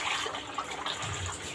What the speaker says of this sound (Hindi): अब हम इसको एक बाउल में शिफ्ट कर देंगे, और इसमें हम डालेंगे 1 लीटर पानी